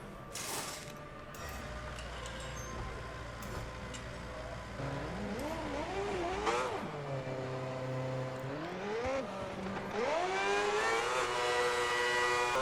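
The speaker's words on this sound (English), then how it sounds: "Get the car off the jacks and start the engine." An F1 car from the game F1 2010 at Bahrain starts up and pulls away, with mechanical clicks first, then a high, whining engine climbing through repeated rising gear pitches at close range.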